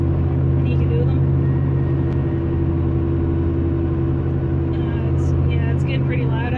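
A car with a noisy worn wheel bearing is driven, giving a steady loud droning hum and road rumble throughout, with faint talk briefly heard over it.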